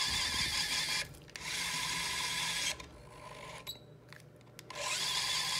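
A Kolvers K-Ducer transducerized electric screwdriver drives screws on an assembly station, its close, loud motor whine running in three bursts split by short quieter gaps with faint mechanical clicks, no voices.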